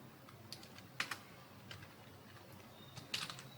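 Sparse, faint keystrokes on a computer keyboard, a few isolated clicks spread out with a short burst of quick taps near the end, no talking.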